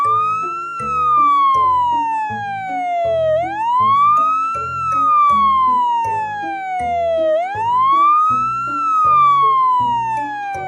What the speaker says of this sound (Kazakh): Бұл өрт сөндіруші көлігі.